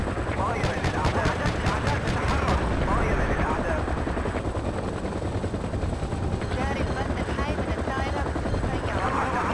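A military helicopter in the Battlefield 2 video game at the Kubra Dam map, a steady loud rotor drone running throughout beneath dense gunfire bursts and other battle noise.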